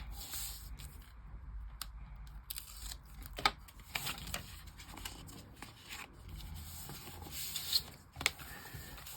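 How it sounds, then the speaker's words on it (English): Adhesive backing peels off a sheet of paper while a junk journal pocket is made, soft close crinkling and rubbing with several sharp little ticks and rips, quiet and intimate, no talking. "I'm just going to peel the backing off."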